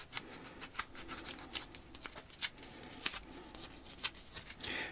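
Scissors snip and rasp repeatedly while cutting and smoothing foam or material for model dead tree scatter terrain, a series of sharp close snips and scraping strokes with no talking.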